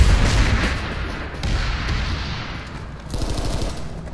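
In Planetside 2, a frag grenade blast booms amid dense, rolling automatic gunfire, a heavy low rumble with continuous crackling shots and a fresh burst of fire near the end.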